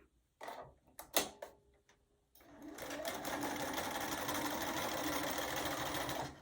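A domestic sewing machine stitches a small doll quilt, running in a steady, fast, continuous whir after a few clicks and bumps of handling the fabric; there is no talk.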